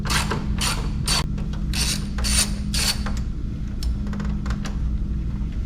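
A ratchet backs out a 10mm bolt at the bottom of the grille on a 2024 Ford F150, giving repeated rapid clicking bursts close up over a steady low hum, with no talk.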